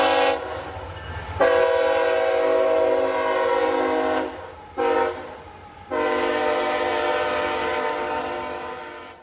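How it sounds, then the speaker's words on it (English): A train rolls through a small Georgia town, sounding loud, close horn blasts in long sustained pulses with brief gaps, over a steady low rumble of passing cars. "We can't have a video without a train, obviously."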